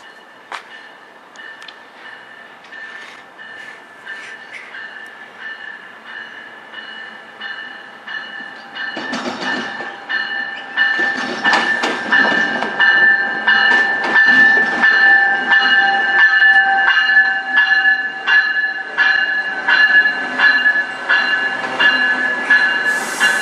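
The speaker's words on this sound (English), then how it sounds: "we got the VIA 87 coming into the VIA station here" VIA Rail passenger train 87 rolls into a station on the Strathroy Subdivision. A long steady horn-like tone sounds while the wheel clatter and rumble build to a loud, rhythmic clickety-clack as the train draws near.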